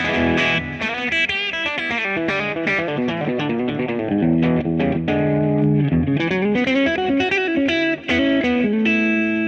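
Distorted electric guitar played through an Axe-FX amp modeler, a continuous run of chords and notes, loud and heavily processed with effects, no talking.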